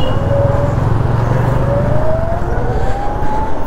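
Dense street traffic in Chennai heard from a moving delivery scooter: a constant loud roar of engines and wind, with a horn-like tone rising and falling through the mix.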